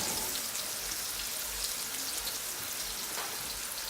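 Bouillon cubes dropped into hot oil in a pan for cooking kamote tops give off a continuous, even crackling hiss like light rain, close and steady throughout.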